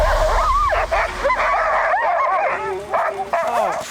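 Young sled husky yelping and whimpering in a run of high, wavering cries and yips, close and loud, with brief pauses between bursts.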